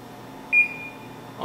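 A single short electronic beep from an oven control panel being set to broil on high, clear and close against a quiet room, with a faint second blip just after.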